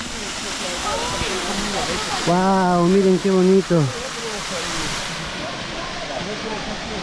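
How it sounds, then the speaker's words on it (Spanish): The Clavidín waterfall near Mashpi, outside Quito, roars with a steady, dense rush of falling water throughout, while a nearby voice speaks briefly over it. "Hemos llegado a la cascada del Clavidín."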